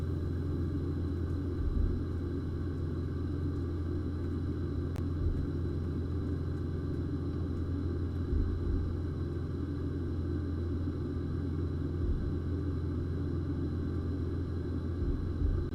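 A Boeing 777-200LR in a flight simulator game rumbles steadily during pushback, a continuous low drone with a constant engine-like hum and no voices.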